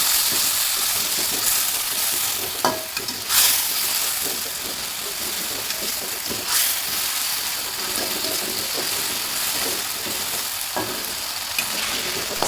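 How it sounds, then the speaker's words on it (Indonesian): Sambal, a ground chili paste, stir-fried in hot oil in a wok, with a steady, close sizzle and frying hiss, broken by occasional clacks and scrapes of a spatula stirring the paste. "tambahkan minyak ke dalam wajan untuk menggoreng sambalnya. Setelah itu masukkan sambal yang sudah diulek tadi, tumis"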